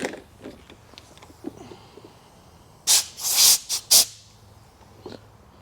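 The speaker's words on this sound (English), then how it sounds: "Blow some chips out." Compressed air blasts machining chips out of a cut part in a metal shop: four short, loud, close hissing bursts in quick succession after a quiet stretch, with no talking.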